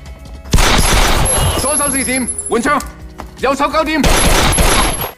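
Gunfire in an action film scene of shooting at villains comes in dense broadband bursts near the start and again toward the end, with voices speaking loudly between and over the shots.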